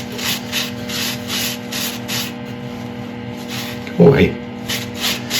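A burl wood turning being polished with an experimental abrasive paste: a steady, close rubbing hiss with a short louder scuff near the end, and a brief voice speaking.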